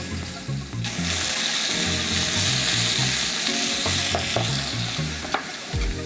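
Onions tipped into a hot stir-fry pan for beef and broccoli hiss loudly and continuously, a dense close sizzle that holds steady throughout with a few soft knocks.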